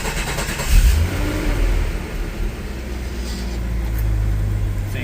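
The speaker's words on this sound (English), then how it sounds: "can now start it with the key instead of a screwdriver" A 1989 Jeep Comanche Eliminator engine cranks and catches with the key, then settles into a loud, steady running rumble close by.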